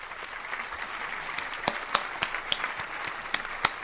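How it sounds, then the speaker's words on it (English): Faint, thin applause behind a livestream host, with sparse individual claps popping out over a soft continuous wash. "Let's give this man a round of applause, y'all."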